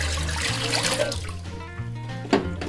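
A glass of water is poured into a pan in a short steady stream, ending with a small clatter.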